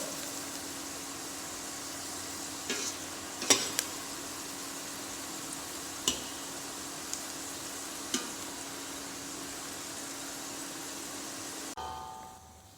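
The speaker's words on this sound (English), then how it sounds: "This is how we need to roast our meat pova." Meat sizzling steadily in a hot pan while browning for a brown sauce, with a constant fry hiss and a few sharp clinks of utensil against the pan, before the sound cuts off near the end.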